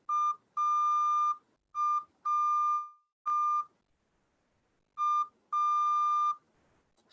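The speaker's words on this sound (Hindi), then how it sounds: "एक डॉट एक बीप होगा और एक डैश एक लॉन्ग बीप होगा" Morse code letter A sounds as a clean electronic tone: a short beep followed by a long beep, repeated several times with silent gaps between each group.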